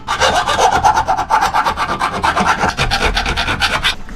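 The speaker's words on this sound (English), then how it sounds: "Just file up the inside, I mean." A metal file rasps back and forth inside a pipe for a choke fitting on a BMW E30 2.8, its steady rhythmic strokes loud and close with no voices.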